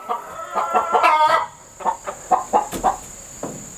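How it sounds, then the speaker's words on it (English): Several homestead egg-laying hens cluck loudly and close by in quick, uneven bursts, one drawn-out squawk followed by a string of short clucks over a steady background hum. "Loud chickens."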